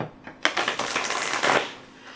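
Oracle cards being shuffled: a rapid papery riffle and flutter of stiff stock, close and fairly loud, running in bursts for about two seconds with no talking.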